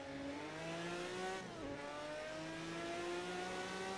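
Jaguar XJR9LM race car with a 7-litre V12 in the Project Cars 2 video game, engine note rising through the gears with a brief dip at a shift, faint and continuous.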